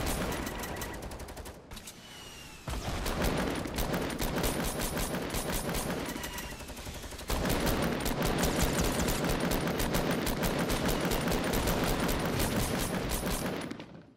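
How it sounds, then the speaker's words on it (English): Rapid gunfire in Fortnite, dense bursts of machine-gun shots fired nearly nonstop, loud and close, with one brief lull before the firing resumes. "What I'm going to do is unload rapid fire from way up here."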